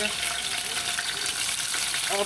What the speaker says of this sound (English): I'm just frying up my seasoning here guys, preparing it for the fish